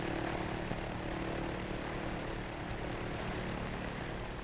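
Steady, unbroken drone of a 1933 propeller airliner in flight, engines and airscrews humming evenly throughout with a broad, constant roar and no other sounds.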